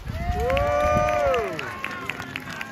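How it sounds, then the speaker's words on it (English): A crowd cheers and whoops at a Wars of the Roses battle re-enactment of St Albans 1455, a loud swell of many voices with rising and falling shouts that fades, outdoors in the open air. "why not give the Lancastrians a big cheer?"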